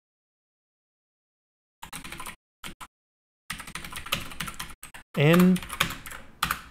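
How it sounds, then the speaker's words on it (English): Computer keyboard typing while writing Swift code, bursts of close, quick key clicks separated by pauses, with a voice speaking over part of it. "I cannot type to save my life."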